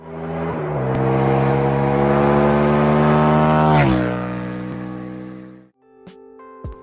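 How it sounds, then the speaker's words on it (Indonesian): A motorcycle engine revs loudly up close, a rich rumbling drone that climbs and drops in pitch before stopping abruptly. "suara-suara motor tersebut adalah suara yang cukup enak didengar kalau sendiri"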